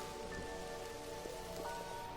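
Rain falling in the video game Mind Over Magic, a soft steady hiss of drops with faint scattered patters, quiet and unbroken.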